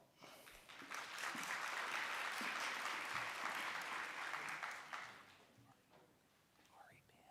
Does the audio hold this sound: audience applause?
yes